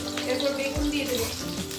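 Eggplant frying in hot oil in a pan, with dried chili and nigella seeds among the spices, a steady close sizzle with a stir partway through.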